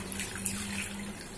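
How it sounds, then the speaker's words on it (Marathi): A glass of water poured into a large pot for kokum curry, a short, steady, close splashing pour heard alone. "अजून एक ग्लास पाणी घालूया"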